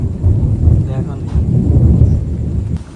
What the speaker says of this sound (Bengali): প্রচন্ড বিদ্যুৎ চমকাচ্ছে, আকাশ মেঘে ঢেকে গেছে, বৃষ্টি পড়ছে তো